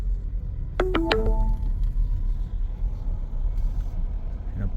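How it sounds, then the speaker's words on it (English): A bus rumbles nearby with a sharp pneumatic hiss and squeal of air brakes early on, then a low engine drone continues as it pulls away, outside Catholic Charities in McAllen, Texas. "And a bus just got off."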